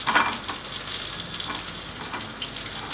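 Whole peppercorns hit hot oil in a frying pan as vegetables start cooking for a lamb shank braise, giving a steady close sizzle with a brief louder crackle at the start and no talking.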